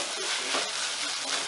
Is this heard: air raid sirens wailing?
no